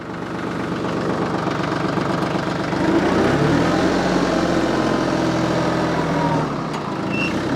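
A TYM 2515 compact tractor with a forestry mulcher attached idles with a steady diesel chug and faint knock, swelling slightly louder midway before settling back, close by with no talk.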